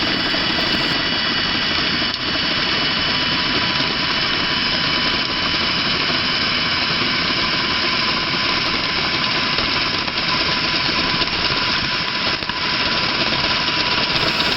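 An electric drill in standard drilling mode spins a grass-cutting blade clockwise, giving a loud, steady whirring drone with a constant pitch that runs without pause from start to end.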